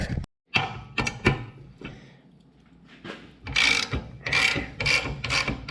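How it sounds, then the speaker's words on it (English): Socket wrench ratcheting on a bolt of an old Ford four-bottom plow, close and loud, with bursts of rapid clicking strokes separated by short pauses and some metal knocks. "I'm gonna have to go get a socket on that and see if we can get it out that way."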